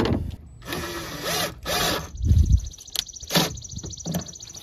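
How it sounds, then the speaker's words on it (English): Hose clamps being tightened on a Chevrolet Silverado during a throttle position sensor replacement, giving close ratcheting clicks and metallic scraping in uneven bursts with short pauses, and no talk. "I need to tighten up my hose clamps first."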